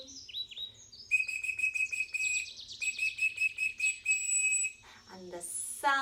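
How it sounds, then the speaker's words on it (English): High whistled bird chirps and trills repeat in quick runs, fairly faint, over a soft low background. The calls end with a rising sweep. "The birds are singing."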